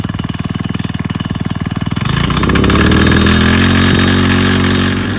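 A portable winch's small gas motor runs close by, first with a fast, steady chugging pulse, then rising to a louder, smoother, continuous drone.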